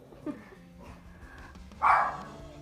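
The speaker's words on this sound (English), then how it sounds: "And there's my dog." A dog barks once indoors, a single sharp bark in the second half standing out over quiet room noise and faint background sounds.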